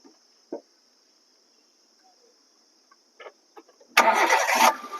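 Crickets chirp faintly in a quiet setting with a few soft knocks, then a Hyundai Santro's engine cranks and catches in one loud, close burst near the end.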